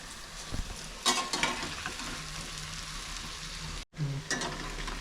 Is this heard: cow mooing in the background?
no